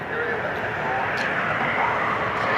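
An airliner taxis out at Cleveland Hopkins airport, its engines producing a steady broad roar and whine at moderate distance, with a person talking over the noise.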